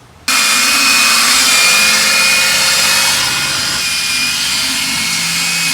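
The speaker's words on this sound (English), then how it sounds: "using the drills and the mag and aluminum polish" Power drills fitted with polishing bits buff aluminum wheels with mag and aluminum polish, starting abruptly into a loud, steady, high-pitched whirring grind that runs unbroken throughout, close by and without speech.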